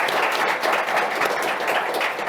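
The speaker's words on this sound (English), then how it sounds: "Big round of applause for our speakers" Audience applause for speakers at the close of an analytics conference panel, a dense, steady roar of many hands clapping, loud and continuous with no talk over it.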